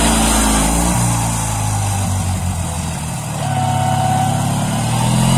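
A KMZ T-012 mini tractor engine runs steadily and loud, a continuous low rumble with a harmonic drone that dips slightly in the middle before swelling back up, used around a garden plot in snow clearing.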